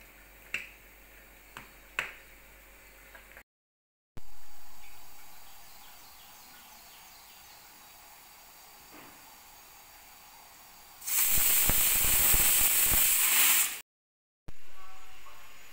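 A pressure cooker cooking lentils for rasam releases a loud, rushing steam whistle lasting about three seconds, after a few sharp clicks and a quiet stretch, with no talk.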